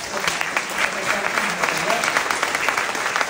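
Dense, steady applause from a lecture audience honouring the police, many hands clapping together at close range and holding an even volume throughout.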